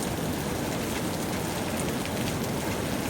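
Heavy rain pours steadily in a dense, unbroken hiss, loud and close, with no voices.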